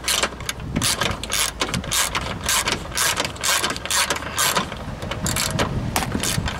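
A socket wrench fitted with a number 10 socket ratchets repeatedly while a new radiator is being installed, giving close, loud bursts of rapid clicking with brief pauses between strokes.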